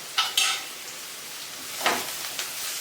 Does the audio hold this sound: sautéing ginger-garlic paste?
yes